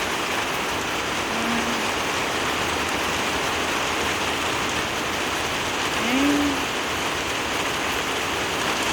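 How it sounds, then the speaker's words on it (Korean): Heavy rain pours steadily outside a home in a broad, unbroken wash, loud enough to fill the scene, with a couple of faint tonal sounds rising briefly above it. "하루 종일 비 와도 좋아"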